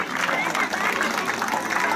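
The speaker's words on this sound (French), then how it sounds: "vos applaudissements iront jusqu'à lui" Dense, sustained applause from an audience at an amphitheatre inauguration ceremony, steady and fairly loud throughout with a roar of many hands and crowd noise.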